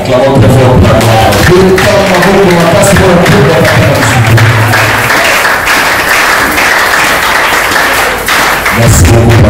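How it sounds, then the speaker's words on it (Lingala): Loud congregation applause and cheering at a church gathering, dense clapping with shouting voices over sustained music, continuing strongly throughout before a brief dip near the end. "Acclamons très fort pour la gloire."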